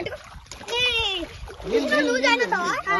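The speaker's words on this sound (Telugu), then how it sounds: "నీళ్ళు కొట్టమాకండి" Children splash water outdoors in a natural setting, the wet slaps mostly buried under their high, lively voices calling and talking close by.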